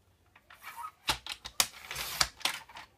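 Paper being cut to size for a 15x15 paper storage project, heard as several sharp, close cutting snips and crisp rustles in an otherwise quiet room.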